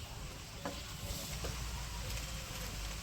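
Spices for a buffalo meat curry sizzle and crackle in hot oil while being stirred, a faint steady frying hiss with occasional scraping taps, heard without talk.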